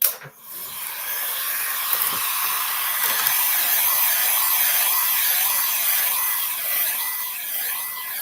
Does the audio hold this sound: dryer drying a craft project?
yes